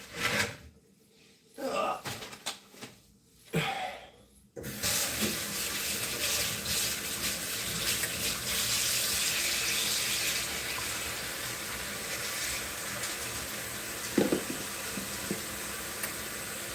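Tap water runs steadily into a sink while a container is washed, a continuous close hiss after a few seconds of intermittent handling and rubbing noises.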